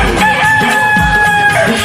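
A rooster crows once in a drawn-out, ringing call, loud and close, set against a devotional song's musical backing.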